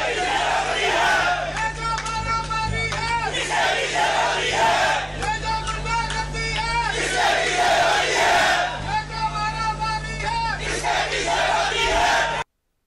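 A large crowd at a party function chants slogans in loud, rhythmic, repeated bursts of massed voices, continuous and close, with a steady low hum underneath.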